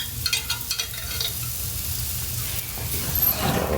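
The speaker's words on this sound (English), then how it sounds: "Probably gonna let those steaks cook for a few more minutes and flip them again" Ribeye steaks sizzle on a grill in a steady, hissing crackle that holds throughout, with a few louder pops early on and a brighter hiss building toward the end, close and without talking.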